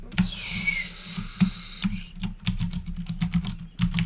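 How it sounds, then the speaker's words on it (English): A computer keyboard types a character name during Cube World game setup, with quick, irregular clicks in short bursts, loud and close. A brief swooping game tone plays near the start, and no one speaks. "Type in your name"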